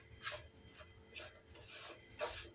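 A coconut and powdered sugar mixture is stirred while roasting in a pan for modak, giving soft repeated scraping rasps at an uneven rhythm, faint and close, with no talking.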